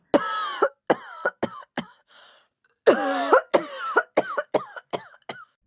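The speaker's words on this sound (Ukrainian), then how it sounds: "на мене знов нагнав приступ дикого кашлю" A woman standing at a bathroom sink has a violent coughing fit, with harsh coughs in two bursts and a brief pause between them, loud and close, no speech.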